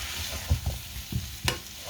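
Meatballs sizzling in a frying pan, a steady close fry broken by a few soft stirring knocks and one brief sharper clatter.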